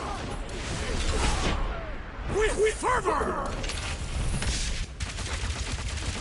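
Combat in Marvel's Guardians of the Galaxy video game: loud bursts of explosions and rapid gunfire roll on continuously, overlapping with character voices talking throughout.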